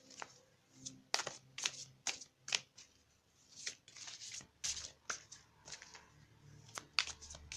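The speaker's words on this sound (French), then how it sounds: "on va prendre une carte d'énergie de guérison pour compléter ce tirage" Tarot cards shuffled and drawn for a reading, a quiet, close run of crisp riffling snaps and slides in uneven bursts, with no talk.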